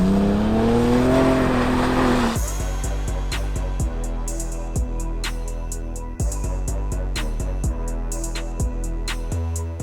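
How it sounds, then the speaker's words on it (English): A Ford Bronco Raptor fitted with an AWE SwitchPath exhaust revs up loudly and close by. Sharp, repeated throttle blips follow with crisp crackles between them. "install AWE's brand new exhaust to make your Raptor sound like this"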